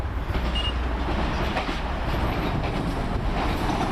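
A class 220 diesel unit, 220026, passes fast with a broad rushing roar and rapid wheel clatter on the rails, loud and steady throughout with no talk.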